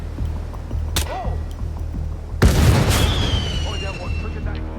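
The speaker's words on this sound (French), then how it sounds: "Il y a une voiture qui a explosé." A car exploding in Hitman 2 at Hawke's Bay, New Zealand: a sudden loud blast midway bursts over a low engine drone, followed by a ringing tail and scattered debris, with a sharp crack earlier.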